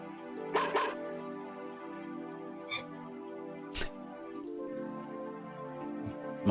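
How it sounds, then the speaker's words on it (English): A pet dog named Boney barks a few times indoors, short sharp yaps spaced apart over a low steady background hum, moderately close. "Oh, now you heard my other dog,"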